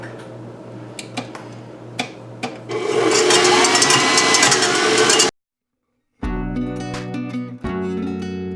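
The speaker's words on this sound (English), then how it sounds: "beat this in my standing KitchenAid mixer until I form some stiff white peaks" A KitchenAid stand mixer whips aquafaba with vanilla and cream of tartar toward stiff white peaks, a dense continuous whirring for a few seconds, set between scattered clicks and clatter before and after a brief silence.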